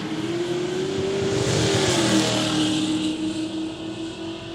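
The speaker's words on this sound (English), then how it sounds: "Falcon just pips the wagon at the stripe." Ford Falcon and a wagon drag racing to the finish line at the Kooralbyn Valley quick street day, a loud continuous engine roar with a steady rising whine held near throughout, no talking.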